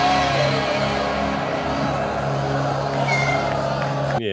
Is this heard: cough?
no